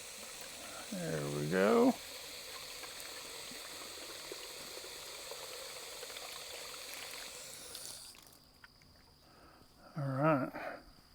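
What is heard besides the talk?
filling animals' water container with water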